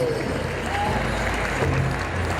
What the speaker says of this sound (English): let's give a big round of applause for Danielle Tashina Finn